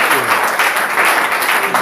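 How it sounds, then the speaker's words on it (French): Church congregation clapping together in praise during a French-language sermon, a loud continuous wash of applause close at hand lasting the whole short moment. "applaudissons pour le Seigneur"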